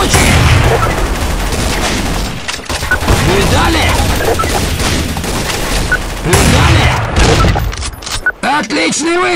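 Rapid bursts of gunfire from the Counter-Strike: Source shooter fill the whole stretch, with dense overlapping shots and booms, loud and close, while players talk over the action.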